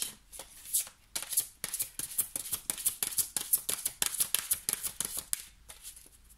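A deck of cards is shuffled and cut during a card reading, with a rapid, crisp run of close riffling flicks and slaps that pause briefly and then resume.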